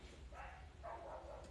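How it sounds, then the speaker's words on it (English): A hound dog barks and bays in a couple of short, faint bursts, sounding distant and muffled against a low background hum. "loud ass hound dog"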